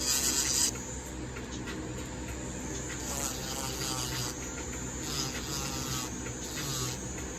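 A steady, high-pitched whirring hum of a nail drill with a zebra sanding band smoothing an acrylic nail at the cuticle area, continuous with small shifts in pitch as the band moves across the surface.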